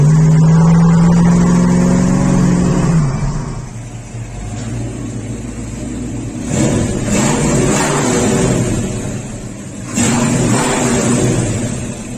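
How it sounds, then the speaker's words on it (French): Ford Mustang V8 heard from inside the car as it accelerates, a loud throaty engine note rising and falling in two or three surges of revving. "d'écouter la mélodie du V8 de la Mustang, c'est magique"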